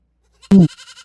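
A young goat kid bleats once, loud and close, in a short wavering call followed by a few softer trailing bleats. The animal is fed sesame oil cake on a Tamil family farm.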